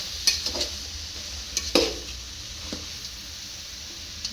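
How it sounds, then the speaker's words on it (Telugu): Ladle stirring food in a cooking pot, soft scraping and occasional sharp metallic clinks against the pot, intermittent over a faint background hiss. "గరిటెతో అడుగు నుంచి తిప్పుతూ ఉండాలి."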